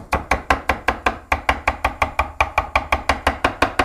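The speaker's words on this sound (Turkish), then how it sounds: "İnce ince doğruyorum." A knife chops fresh basil finely on a cutting board in rapid, even strokes, about five crisp, close taps per second, loud and steady with no talk.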